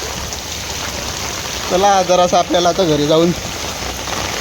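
Heavy rain pours steadily over Dungi village, a broad continuous hiss of water on surfaces, while someone speaks briefly over it in the middle.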